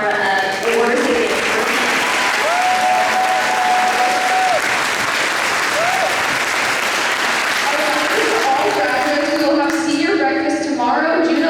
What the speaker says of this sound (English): Let's give one more round of applause for all of our award recipients.